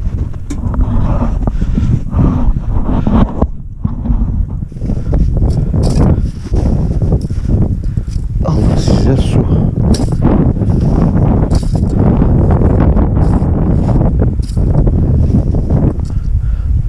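Cold wind blows across a snowy winter campsite, buffeting the microphone in loud, continuous gusts with occasional rustling, and no talk.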